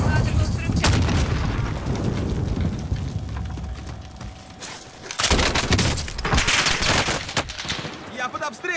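Loud gunfire and explosions from a combat video game, with dense bursts of shots and booms rolling through the whole stretch, easing briefly in the middle before heavy volleys return.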